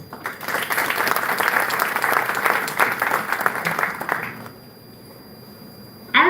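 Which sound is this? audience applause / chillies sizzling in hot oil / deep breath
audience applause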